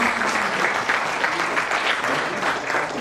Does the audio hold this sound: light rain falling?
no